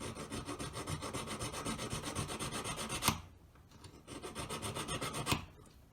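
A hand file rasps back and forth against metal while shaping a square four-claw jewellery collet, a close, rhythmic scraping that stops briefly and then starts up again.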